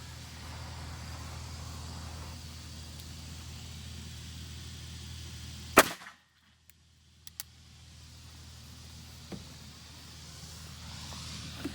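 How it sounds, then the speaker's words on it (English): A single loud gunshot from a Fort Scott Munitions TUI 115-grain round fired at car parts, a sharp crack against steady outdoor rumble, followed by a brief drop to near silence. "Our fourth shot."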